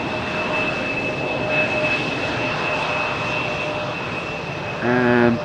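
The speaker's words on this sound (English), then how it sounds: "quickly vacating the runway so that the A330 can land, as it's doing right here" A Delta Airbus A330 lands at Amsterdam Schiphol, a steady distant jet roar with a thin whine, swelling near the end, with no talking.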